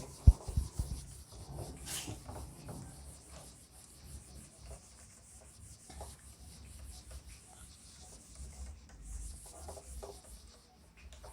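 Writing being rubbed off a classroom board during an economics lecture, a soft continuous scrubbing and swishing with a few sharper knocks at the start, fairly faint and close.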